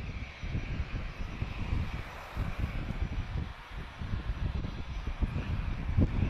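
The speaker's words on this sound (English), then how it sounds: "TP1091, arriving from Valencia. This is an Embraer E190, long range" A TAP Express Embraer E190 jet, arriving from Valencia, rumbles steadily at a distance, a low continuous engine roar that swells and eases slightly without breaks.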